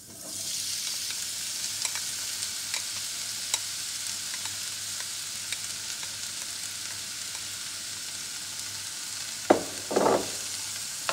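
Chopped onions frying in a pan with thyme and rosemary give a steady, close sizzle throughout, with a few louder stirring scrapes near the end.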